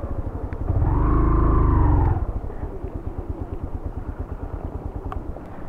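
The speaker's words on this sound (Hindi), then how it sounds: "अब जो है रमीज़ की बाइक है।" Motorcycle engine up close in a valley setting, a loud throaty rev for about a second that then drops back to a steady pulsing idle that chugs on to the end.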